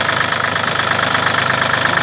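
Three-cylinder diesel engine of an Iseki TU1 four-wheel-drive Japanese mini tractor idling close by, a steady, even rumble with a fast regular knock running unbroken throughout.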